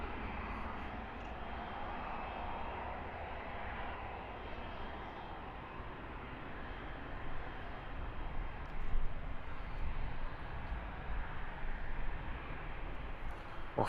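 A large DHL freighter plane departing Luton Airport, its engines a steady, fairly distant roar that swells gradually as it climbs out.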